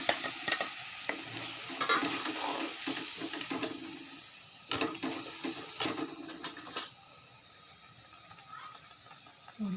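A tadka for whole masoor lentils sizzles and fries in a pan, with a steady crackling hiss broken by a run of sharp scraping stirring strokes that ease off toward the end.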